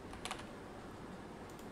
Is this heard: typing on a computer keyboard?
yes